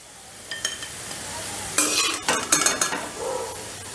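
Cashews and raisins crackle as they fry in hot oil, and a utensil lifts them out with a few clattering scrapes against the pan over a steady sizzle. Nobody speaks.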